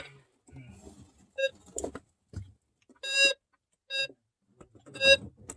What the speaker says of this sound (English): I've got this little metal detector.